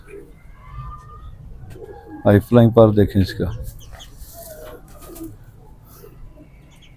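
A strong male pigeon gives a short burst of deep, throaty cooing at close range, a cluster of rolling coos in the middle, with someone talking before and after.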